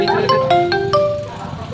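A phone ringtone plays a short melody of bright, clear repeating tones, loud and close, with a voice faintly present.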